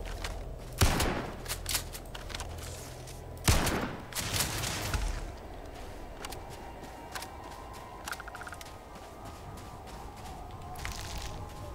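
Gunfire in Starfield, in two sharp loud bursts early on and then quieter scattered shots and mechanical clicks over a low ambient hum, with no voices.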